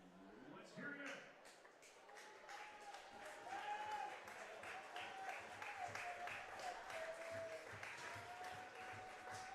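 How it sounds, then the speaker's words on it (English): Spectators at an Intercounty Baseball League game between the Kitchener Panthers and London Majors cheer and clap in a sustained, moderately distant swell, with a play-by-play announcer talking over the crowd noise. "Crowd getting excited."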